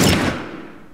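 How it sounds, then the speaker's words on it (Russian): A single loud gunshot from a weapon in The Last of Us video game, a sharp close blast that decays quickly, with no voices. "Так, я прострелил одному ногу,"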